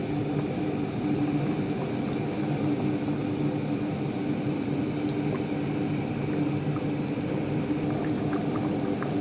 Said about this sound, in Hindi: अब हम इसको बस 10 मिनट तक हल्की आंच पे पकाएंगे।